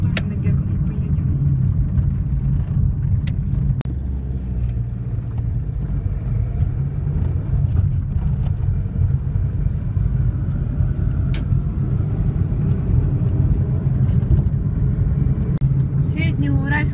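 Steady low road rumble inside a moving car near Sredneuralsk, continuous and fairly loud, with people talking over it.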